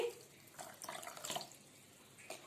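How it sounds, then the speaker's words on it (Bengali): Flattened rice (chira) is being washed with water, a faint running-water swish with soft splashes and stirring sounds at moderate distance. "এবার আমি ভালো করে জল দিয়ে চিরাগুলোকে ক্লিন করে নিচ্ছি"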